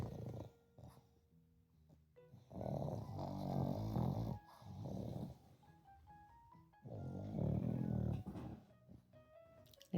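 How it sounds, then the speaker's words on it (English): A pug snores in rhythmic, close-up breaths, two long loud rasping snores standing out over quieter breathing in between. "Let me move Rooney so he stops snoring"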